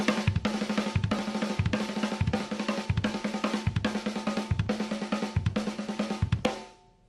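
A repeating drum-kit groove in a six-and-two pattern on snare and kick, steady driving hits with dense cymbal wash throughout, played close and loud until it stops abruptly and rings out.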